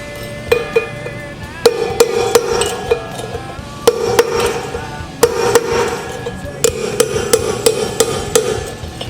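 A bearing being hammered out of a wheel with a punch, with a steady series of sharp metallic strikes ringing with resonant tones in uneven bursts, close and loud, with no speech.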